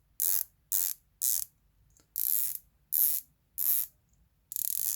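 A Pagani Design PD1661 dive watch bezel being turned, giving seven crisp, close ratchet clicks in a steady rhythm with short silent gaps between them, alone.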